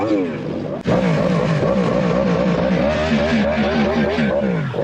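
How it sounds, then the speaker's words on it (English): Loud motorcycles fitted with aftermarket exhaust rev and roar close by, a sustained rising-and-falling engine drone that kicks in suddenly after a brief lull, with people talking over it. "these bikes are insanely fucking loud"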